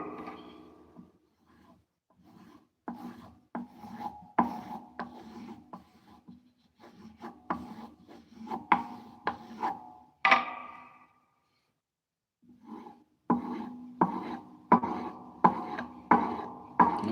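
Chisels are sharpened by hand: rhythmic rasping strokes of steel rubbing on a stone, steady back-and-forth bursts with a brief pause midway, close and moderately loud, with no talk.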